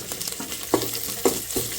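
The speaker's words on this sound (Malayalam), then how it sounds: "നമുക്ക് നമ്മുടെ പച്ചമുളക്, ഇഞ്ചി, വെളുത്തുള്ളി, അപ്പോൾ ഇതൊന്ന് ചെറുതായിട്ട് സോട്ട് ചെയ്തെടുക്കാം" Green chilli, ginger and garlic sauté in a hot pan with a steady close sizzle, broken by three quick scraping stirs of a spoon.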